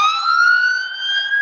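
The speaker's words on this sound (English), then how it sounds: "There's an ambulance running by" An ambulance siren rises in a sustained, loud wail as it runs by close, steady and alone without talk.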